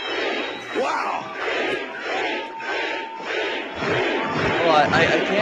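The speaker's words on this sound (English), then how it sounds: "There's too much cheering." A large crowd cheers and shouts loudly and continuously, a dense roar of many voices with surging peaks that swells toward the end.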